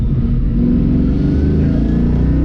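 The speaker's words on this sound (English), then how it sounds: "It's got a great rumble at idle." A deep, steady 302 V8 rumble from a 1966 Ford Mustang idles close by, low and throaty with a lumpy pulse, continuous throughout with no talking.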